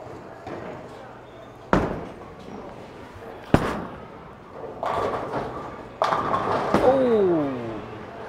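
A bowling ball rolling down a lane and crashing into pins: low rumbling roll, a couple of sharp thuds, then a loud clattering pin crash, with someone talking over it.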